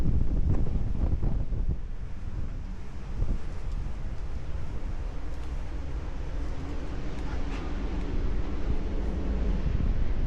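Strong wind buffeting the microphone outdoors during an ultra trail training run, a steady low rumbling roar with gusty surges that lasts the whole time, with no voices.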